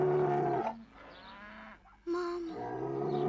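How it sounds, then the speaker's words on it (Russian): A bull moos nearby in a farm setting with two deep, drawn-out calls separated by a short pause, loud and clear with no talk. "Бык!"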